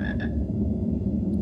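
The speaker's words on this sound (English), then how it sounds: "And I hear that frog again." A frog croaks in the PC game Harry Potter and the Sorcerer's Stone, a couple of short, close croaks near the start and another at the end over a steady low ambient background.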